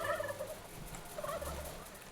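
Gobbling poultry calls from the chickens in the video game Dungeons 3, several squawky clucks repeating at moderate volume over a steady game background, with no talking.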